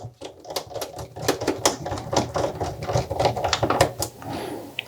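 Torx screws are driven into the RF shield of a PlayStation 4 Slim during repair. Quick, sharp mechanical clicks repeat in an uneven, rattling rhythm, close and fairly loud, with no talk.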